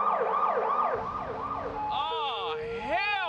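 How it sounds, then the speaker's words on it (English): A loud wailing police siren, rapidly cycling yelps shifting into warbling tones, close by and continuous. "There's no worse sound in the world than hearing that siren"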